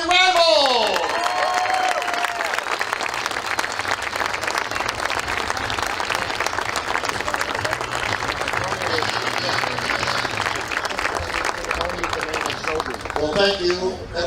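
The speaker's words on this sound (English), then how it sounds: "Big applause for them right now." A crowd at a softball tournament gives sustained, loud applause with scattered cheers and whoops for the co-founders of the Softball Hall of Fame, while a voice speaks briefly over the clapping at the start and end.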